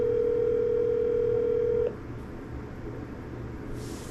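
A steady telephone dial tone drones loudly on a call, then cuts off abruptly partway through, leaving only a quieter line hiss and faint background noise.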